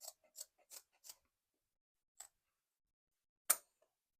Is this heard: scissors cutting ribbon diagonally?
yes